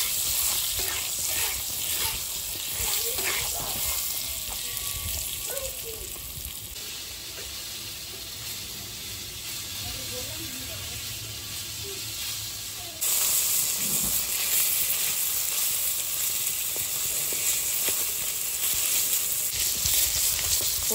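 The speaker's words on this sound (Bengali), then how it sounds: "পটলগুলো লাল লাল করে ভেজে নিয়েছি" Pointed gourd pieces sizzle steadily in hot oil with salt and turmeric, a dense, continuous frying hiss with occasional stirring scrapes and a louder surge toward the end.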